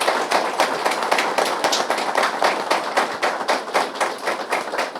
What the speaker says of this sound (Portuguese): Eu vou pedir uma salva de palmas aos nossos autores